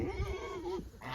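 Goats in a farm pen let out a close, wavering bleat that rises and falls over about a second, with a second short cry at the end, clear against the quiet pen.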